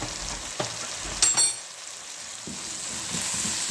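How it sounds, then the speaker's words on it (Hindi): Capsicum and cabbage cooking with vermicelli over a low flame, giving a soft, steady sizzle with occasional brief stirring scrapes and clinks, close by and alone. "ये स्लो आंच पे मैं कुक कर रही हूँ ताकि अच्छे तरीके से जो शिमला मिर्च है, बंद गोभी है, वो अच्छे तरीके से कुक हो जाए"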